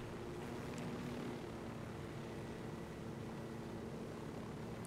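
A helicopter flies in the video game Ghost Recon Wildlands, giving a steady, loud rotor-and-engine drone that holds evenly throughout with no talk.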